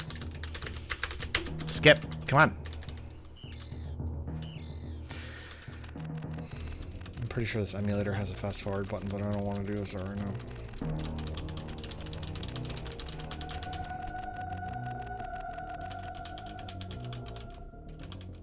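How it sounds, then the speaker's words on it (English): Keys on a keyboard with Cherry MX Red switches are typed in quick bursts of soft clatter, mixed with bleeps and tones from a Super Metroid emulator, while someone talks over part of it. "These are cherry red keys, by the way. They're the quietest keys I've ever had on a keyboard."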